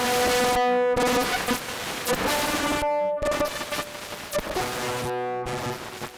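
A harp is played through a modular synth harsh-noise setup, giving a loud, dense wall of buzzing, distorted tones broken by two or three abrupt short gaps of near silence, with no talk.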